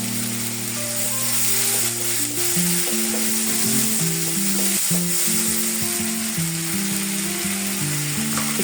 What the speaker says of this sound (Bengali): পেঁয়াজ আর রসুন আর আদা দিয়ে সেটা আমি এখন একটু ভালো করে তেলে কষাই নেব